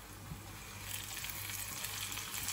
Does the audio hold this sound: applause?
no